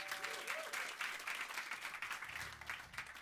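Natural applause from a small studio audience at a live radio session, a steady patter of clapping that carries on alone at a moderate, slightly distant level.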